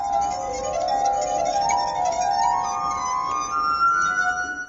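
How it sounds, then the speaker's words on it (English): A street performer's glass harp made of glasses, sustained ethereal ringing tones gliding and overlapping in a choir-like wash, steady and moderately loud over faint background noise. "he found his instrument, the glass harp, which he's been playing for over 20 years"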